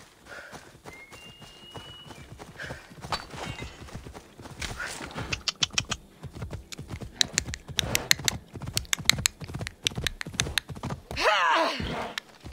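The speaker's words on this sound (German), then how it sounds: "Mit dem Pferd fahren wir." Galloping horse hooves in the video game Assassin's Creed Odyssey, a fast rhythmic clip-clop that grows louder and denser and ends with a neigh, with someone speaking over it.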